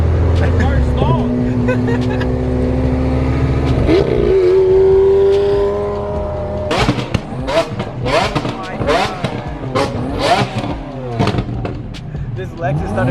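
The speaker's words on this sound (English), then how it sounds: "This Lexus started revving it." A Lexus at a crowded car show holds a loud sustained rev, then the engine climbs and drops in sharp bursts with crackling exhaust pops, close by, while people talk and shout over it.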